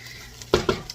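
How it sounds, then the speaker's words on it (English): A spoon stirs seasonings and garlic cooking in a soup pot, giving two sharp close scrapes and clinks against the metal over a faint sizzle. "We're gonna give that a stir, and just continue to stir and cook for about a minute"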